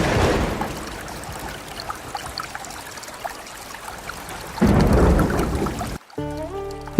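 Cartoon rain falls on a village river, a steady wash of pattering water that swells louder near the end before cutting off abruptly into a short tonal sound.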